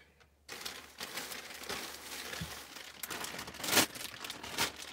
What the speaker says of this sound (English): There's a big plastic bag.